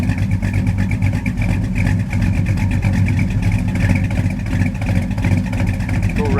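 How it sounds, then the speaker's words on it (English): A car engine runs loud and close in a continuous rumble that swells slightly, as if lightly revved, with no talk over it. "rev it up one time."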